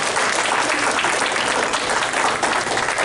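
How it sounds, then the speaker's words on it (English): A conference audience at a holiday health event gives a steady, even round of applause, dense and continuous across the whole stretch with no speech over it. "Can we give her another round of applause?"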